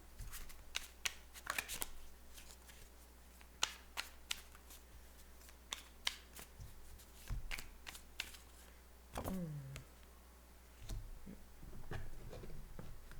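Cards of an oracle deck being shuffled, a run of crisp riffling snaps and flicks, close and fairly quiet, in irregular bursts with a longer ruffle near the end and no talking.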